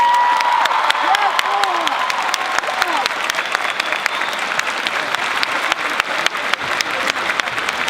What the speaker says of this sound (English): please join me and give me a round of applause for Mrs. Lori Brown.